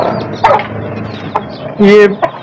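A rooster offered for sale at a bird market, most likely a breed from Sindh, gives short clucks and one louder crowing burst amid nearby birds and background chatter.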